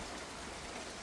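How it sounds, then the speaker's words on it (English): Rain falls on a farm, a soft, steady broadband hiss with no distinct drops standing out, even and unbroken throughout the brief moment. "Yeah, it's raining."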